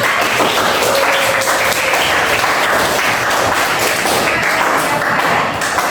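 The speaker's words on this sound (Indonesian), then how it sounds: "Oke, tepuk tangan." Hands clapping in a classroom during a lesson on how to kick a ball, a loud, close, continuous rattle of claps with sharp taps and thuds mixed in, sustained evenly throughout.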